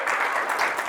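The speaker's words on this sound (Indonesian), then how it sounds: "Ayo cepat, tepuk tangan yang kencang." Loud, dense applause from a church congregation during a fasting prayer service at Bethany Church in Lampung, a steady wash of clapping that fills the whole second.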